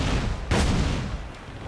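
Swivel cannons firing aboard a ship in Assassin's Creed Black Flag: one sharp, loud blast stands out over a constant roar of wind and sea, with a fainter report trailing after it.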